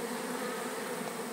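A swarm of honeybees being shaken from a branch into a woven basket makes a steady, dense, close buzzing drone that holds evenly throughout the short stretch.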